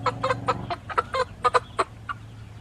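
A group of backyard hens clucks in short, clustered bursts, several close calls spaced irregularly over a low steady background hum.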